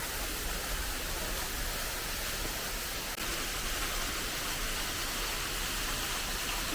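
Small waterfall on a Bali hillside trail, a steady, dense rush of falling water close by that fills the whole clip without pause, with no voices over it.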